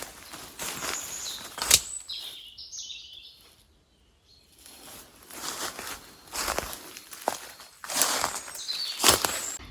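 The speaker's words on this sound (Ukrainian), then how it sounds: "Тут дуже красиво співають пташки." Birds chirp and sing in a storm-damaged forest, their bright calls close and clear over rustling footsteps on leaf litter, with a brief quieter pause in the middle.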